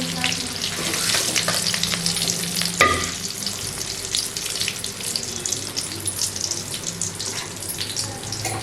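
Gongura leaves, green chili and cumin frying in a pan for Andhra-style gongura chutney, a steady close sizzle with stirring scrapes and a brief sharp clatter near the start, no voices.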